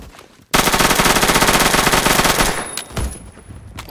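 A submachine gun fires in the online shooter game Phantom Forces as one loud, sustained rapid burst of gunfire lasting about two seconds, followed by a few scattered, fainter shots and game effects.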